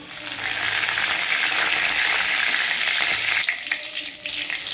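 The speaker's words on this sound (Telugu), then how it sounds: "నూనె వేడెక్కిందండి మనం ఆవాలు వేసుకుంటున్నాం" Mustard seeds hit hot oil for sabudana khichdi, giving a steady, loud, close crackling sizzle that runs continuously and eases slightly toward the end.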